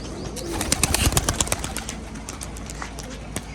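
A green Rajshahi male pigeon tumbles in flight, its wings clapping in a quick, loud flurry over the first second and a half, then in sparser flaps against a steady outdoor background.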